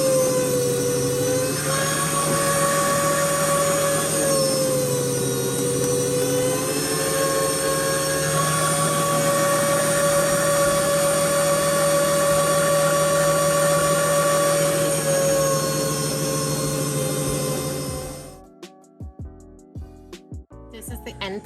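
A slicing machine cuts beef bacon with a loud, steady whirring drone that holds for about eighteen seconds, then stops abruptly, leaving faint clicks and handling noises.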